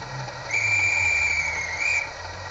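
A model railway Class 37 locomotive sounds its whistle: one steady, fairly loud tone held for about a second and a half over a low background hum, with no voices.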